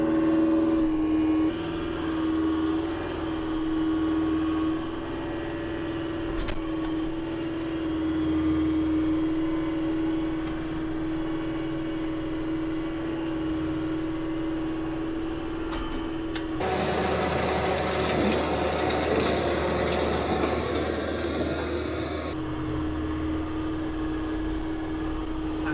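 A front-mounted brush cutter runs at about 2,500 RPM, its steady mechanical drone holding throughout, then roughening into a louder, broadband thrashing burst for several seconds as it chews through easy brush before settling back to the even hum.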